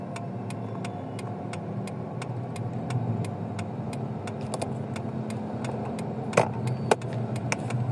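Road traffic heard from inside a moving car on a Philippine road trip, a steady low engine and road rumble with faint repeated clicks and a couple of sharper knocks near the end, no talking.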